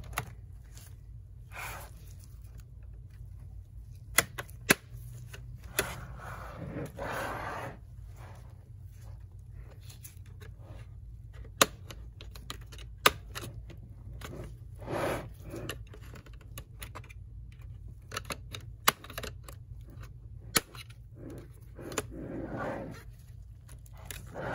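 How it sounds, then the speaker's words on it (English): A plastic cover on a Dell P35G laptop is pried open with scattered sharp snaps and clicks over soft scraping, close up and fairly quiet, with no talking. "you can simply pry open the plastic cover"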